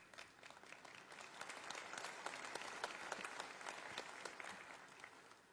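A church congregation claps during a sermon, a steady wash of applause with distinct individual claps, moderately distant and sustained throughout.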